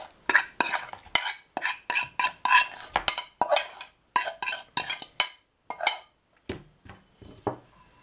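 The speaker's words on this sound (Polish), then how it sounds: "Teraz znowu zamieszać tak." A spoon scrapes and clatters around a bowl while zucchini cake batter is mixed, in quick repeated strokes that come in bursts with brief pauses between them.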